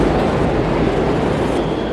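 Train passing along a railway track, a loud continuous broadband rumble and rush that stays steady throughout, close by and with no voices.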